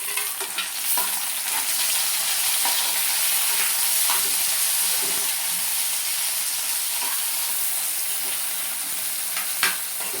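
Onions and tomato frying in a pan for matar paneer give a steady, close sizzle with soft crackles and a stirring scrape now and then, and no one speaks.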